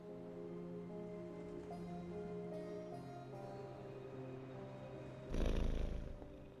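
A cat in Marvel's Midnight Suns purrs softly and steadily under sustained game music tones, with a brief louder noisy swell near the end.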